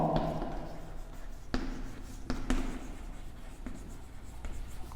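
Marker or chalk writing on a classroom board, a run of scratchy strokes and taps with short pauses between them, close and clear with no voices.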